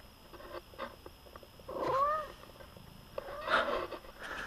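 Indoor cat giving a couple of short rising meows with soft purring and rustling between them, close and fairly quiet, no talking over it.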